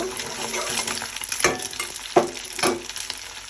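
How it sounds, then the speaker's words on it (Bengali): Eggs scramble in hot oil in a pan, crackling and sizzling up close, with three or four scraping stirs of a spatula cutting through the frying. "প্রথমে ডিম দিয়ে দিলাম তেলের মধ্যে ডিমটাকে স্ক্র্যাম্বল করে নেব"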